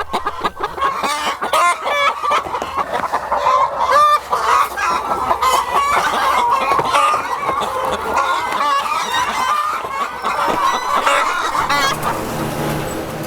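Hens on a 20,000-bird egg farm clucking and squawking in a dense, overlapping chorus, close and loud throughout with no voices.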